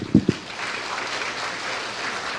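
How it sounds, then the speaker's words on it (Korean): A church congregation applauds during a Sunday service as gifts are presented, with two louder thumps at the start before a steady, fairly soft wash of clapping. "여러분이 힘차게 격려의 박수 쳐주시기를 바랍니다"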